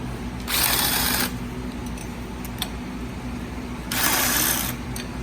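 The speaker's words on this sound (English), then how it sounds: "I've already kind of broken these loose just so I can use an electric impact" Electric impact wrench removing 13mm turbo bracket bolts on a Fiat 500 Abarth, two loud close bursts of rapid hammering, each under a second, separated by quieter garage noise and small clinks.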